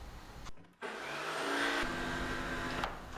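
A power saw cuts off the back edge of a hardwood stair tread, whining steadily and loud with a brief drop in the middle before the blade bites back in and runs on.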